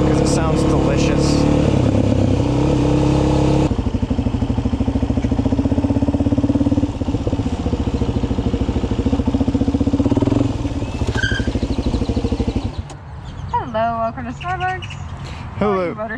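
A supermoto motorcycle engine runs loudly nearby with a steady, throbbing idle that shifts in pitch and intensity partway through, then drops away to quieter background with birds chirping, while people talk over it.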